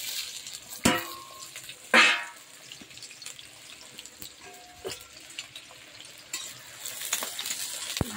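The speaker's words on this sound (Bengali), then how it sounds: "ভালো করে পেঁয়াজগুলো একটু ভাজা করে নেব।" Chopped onions with whole bay leaves frying in hot oil in a wok, a quiet steady sizzle with a couple of sharper bursts of stirring or scraping near the start, no voices.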